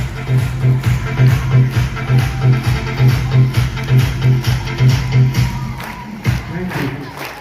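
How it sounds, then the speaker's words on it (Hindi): Students at a farewell event clap and cheer in steady rhythmic bursts, a pulsing crowd noise over a constant low hum from the hall's sound system that softens near the end. "और मंच पर तो इनके लिए भी तालियां बजानी चाहिए।"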